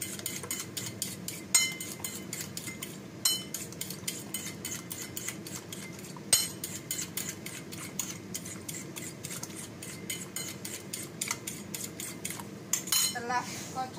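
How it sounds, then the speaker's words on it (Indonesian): Three eggs are whisked loose in a bowl with a utensil, producing rapid, regular metallic clinks and scrapes against the bowl that run steadily throughout with only short pauses. "Ini dikocok lepas kayak gini"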